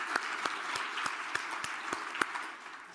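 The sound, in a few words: conference audience applause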